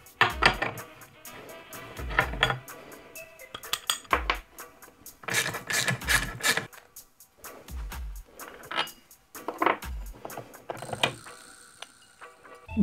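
17 mm wrench working on a scooter variator with a Minarelli vertical engine, with repeated metallic clanks, ratcheting clicks and tool rattles in close bursts, no talk.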